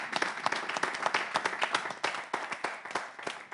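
A studio audience at a French television show claps steadily, a dense patter of many hands that stays loud and even for the whole stretch.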